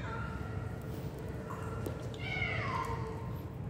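A cat gives a drawn-out meow over a steady background of low noise, with a faint shorter call just before it.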